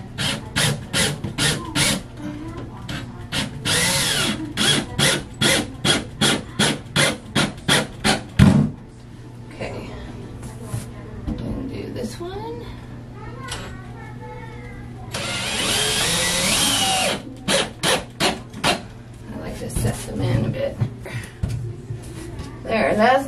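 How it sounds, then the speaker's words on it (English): A drill drives screws into wooden trim during a bathtub-to-shower conversion, with rhythmic repeated bursts, a longer sustained whir in the middle, and someone talking in between, close and fairly loud. "Now let's go ahead and screw this in."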